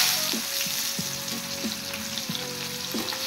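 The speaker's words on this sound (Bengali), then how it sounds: "পেঁয়াজগুলো একটু ফ্রাই করে নেব।" Chopped onions frying in hot oil in a wok, an even close sizzle with a few soft scrapes of stirring, no one talking.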